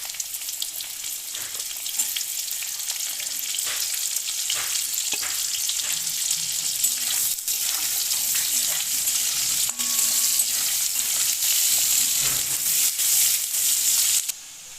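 Chopped onion, garlic and black cumin seeds fry in hot oil for a taro-leaf paste dish, giving a steady, close sizzle with occasional soft clicks and scrapes of stirring.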